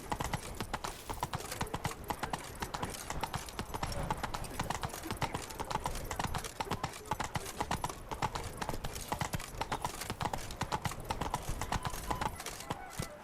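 Horse hooves in The Witcher 3: Wild Hunt pound in a fast, continuous galloping clip-clop, loud and close, with a rider's voice urging the horse on at times.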